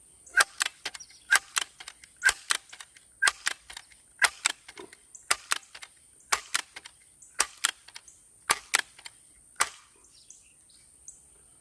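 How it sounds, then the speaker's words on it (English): A Crosman Legacy 1000 pump-up pellet gun fires repeatedly outdoors at 50 yards, sharp snapping shots in an irregular rapid series, close and loud, with no talking. "one of these pump-up pellet guns and attempt shooting it at 50 yards"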